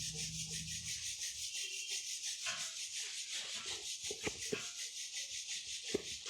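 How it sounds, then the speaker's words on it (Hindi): Palms rub briskly together with a soft, close, rhythmic swishing over a steady background hum, ending with a few light taps. "हाथों को अच्छे से रब करेंगे।"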